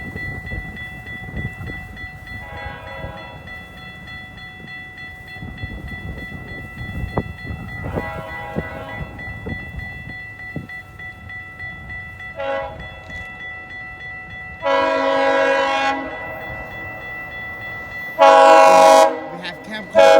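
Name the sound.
GO train approaching level crossing in Newmarket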